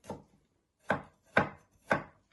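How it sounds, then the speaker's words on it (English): Knife chopping garlic on a cutting board while making a sausage and lentil stew: four distinct, close, sharp chops with a brief pause after the first, no talk. "just chop it into little pieces"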